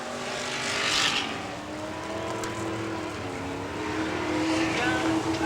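IMCA modified race cars roar through turns 3 and 4 at Crystal Motor Speedway, a steady loud engine drone with rising and falling pitch as the pack passes, a voice talking over the racing noise.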